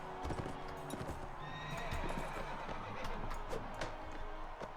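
A horse whinnies repeatedly over steady clip-clopping hooves in the video game Mount & Blade: Warband, loud and continuous, with sharp impacts scattered through the mix.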